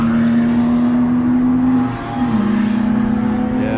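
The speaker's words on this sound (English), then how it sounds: "Some more cars coming through." Car engines passing by at a vintage motor museum in Leeds, Alabama, a loud steady drone with a sustained tone that dips and shifts midway as one vehicle gives way to another, close and continuous without talking.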